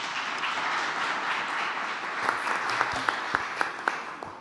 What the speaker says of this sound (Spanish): para quien pido un muy fuerte aplauso